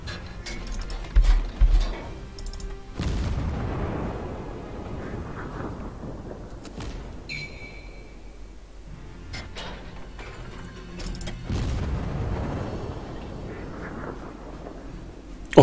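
Naval gunfire in World of Warships: a few deep, booming salvo blasts with rumbling tails, spaced several seconds apart, alone without talk over a low game background.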